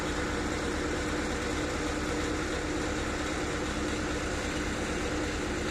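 A tractor engine idles during field disking at spring sowing, a loud, steady low rumble with constant mechanical vibration running unbroken and close by, with no voices.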